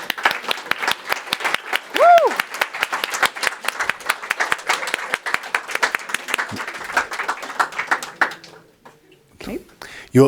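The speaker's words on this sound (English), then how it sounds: "Round of applause for them." Audience applause at a climate hackathon awards event, brisk crowd clapping for several seconds that tapers off, with a voice briefly heard over it.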